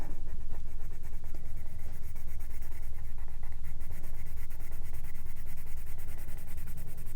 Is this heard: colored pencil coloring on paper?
yes